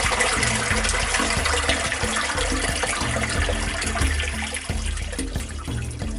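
Groundwater pours into a basement sump pit, making a loud, steady rushing and splashing that fills the whole stretch without pause.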